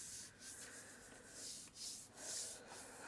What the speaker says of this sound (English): I'm rubbing the witch out.